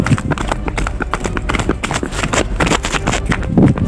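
Rhythmic hoof clip-clops from a horse, steady and fairly close, with some background noise throughout.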